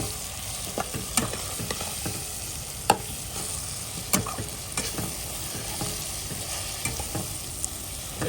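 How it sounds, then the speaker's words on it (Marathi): Garlic sizzles steadily in a pan of frying liver masala, close and continuous, with occasional sharp clinks and scrapes from stirring. "लसूण टाकण्यात येत आहे"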